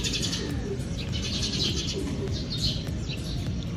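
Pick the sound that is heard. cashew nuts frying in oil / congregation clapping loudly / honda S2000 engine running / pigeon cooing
pigeon cooing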